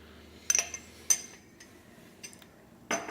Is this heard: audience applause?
no